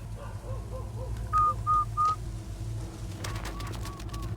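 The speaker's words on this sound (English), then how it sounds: "And he is whistling." A man whistles in a scene from the TV series Chernobyl, a few short clear tonal notes repeating over a steady low hum, with a brighter run of three louder notes midway and more soft notes near the end.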